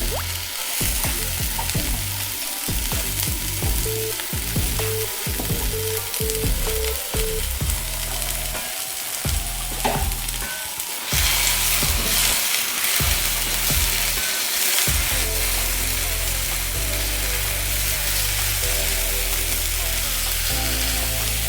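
Boiled spinach paste sizzles loudly in a hot pan while a utensil stirs and scrapes it in repeated strokes, a steady close frying hiss running underneath the whole time, with no voices.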